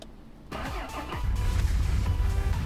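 A truck engine in Mon Bazou cranks briefly, catches and settles into a rough, close mid-pitched idle with a slight rev.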